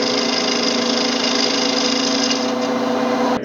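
Wood lathe spinning a pine 2x4 while a skew chisel cuts it, a loud, steady motor hum with a constant whirring drone that dips briefly at the very end, no voices.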